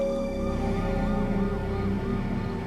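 Ambulance siren wailing in a smooth rising and falling tone, steady and moderately loud over a low rumbling hum, with no talk.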